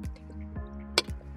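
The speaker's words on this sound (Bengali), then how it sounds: "আমি এখন এখানে মাংসটা দিয়ে দেব।" Pieces of chicken dropped into a pot of cooked-down spices and bay leaf for chicken tehari, giving a few wet, squelchy drips and plops close up, with a quiet steady background hum and no talking.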